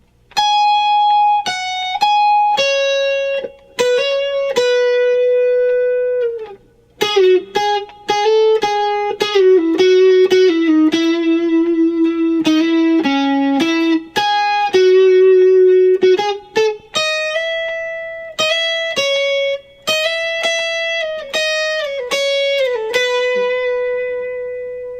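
An electric guitar plays the solo from a song, a run of clean, sustained single notes and slides with bends and short pauses, loud and alone throughout.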